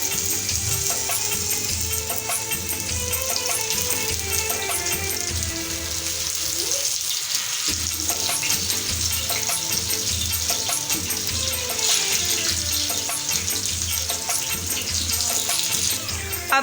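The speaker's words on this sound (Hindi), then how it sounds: "माजी ने तवे पर ऑयल ऐड कर दिया, ऑयल गर्म हो चुका है। अब माजी इसमें चपली कबाब ऐड करेंगी।" Chapli kebabs fry in hot oil on a tawa, a steady loud sizzle and crackle throughout, briefly dipping midway before resuming strong.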